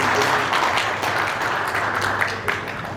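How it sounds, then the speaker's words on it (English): A crowd applauds at a ceremony honoring women's achievements, with dense, continuous clapping and a faint crowd murmur underneath, sustained at an even level for about three seconds. "Let's clap for them"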